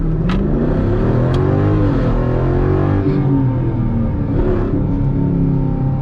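A 2020 Jeep Grand Cherokee SRT with aftermarket exhaust, heard from inside, revs in a loud, deep, rumbling surge that rises and falls repeatedly throughout.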